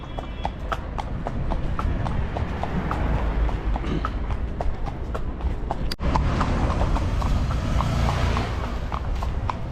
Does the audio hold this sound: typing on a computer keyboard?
no